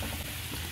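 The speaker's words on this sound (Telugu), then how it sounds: "అందుకే నేను ఇలా బాగా డీప్ ఫ్రై చేశాను" Prawns deep frying in hot oil, a steady dense sizzle filling the short moment without pause.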